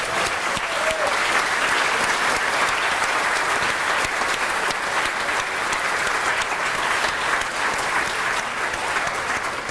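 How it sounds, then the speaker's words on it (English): A room of attendees at a strategic planning retreat at Kimball Farm in Westford, Massachusetts gives a steady round of applause, dense and even from start to finish with no talking over it. "So maybe we could give them a round of applause."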